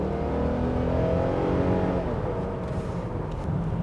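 A Toyota Mark X with a 2.5-litre engine accelerates, heard from inside as a steady, loud engine drone and road roar that rises gradually in pitch, with no talk.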